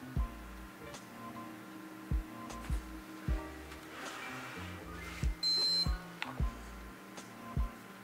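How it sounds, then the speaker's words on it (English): An i5-2500k desktop PC powering up gives a single short, high electronic beep near the middle, over a steady low fan hum and repeated low clicks. "Just beeped once this time."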